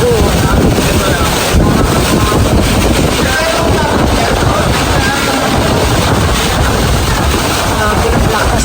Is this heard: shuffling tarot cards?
no